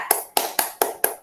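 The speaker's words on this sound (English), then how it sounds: "Shall we all clap for ourselves?" Five sharp hand claps in a steady rhythm from children applauding themselves during an online kindergarten class, close and clear with no talk.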